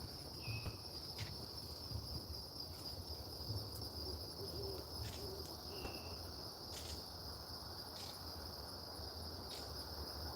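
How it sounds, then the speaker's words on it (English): Low great horned owl hoots, from at least two owls in foggy woods, repeat now and then beneath a steady, loud chorus of crickets and insects, with occasional high chirps cutting through. "So we have a pretty good sound here, horned owls."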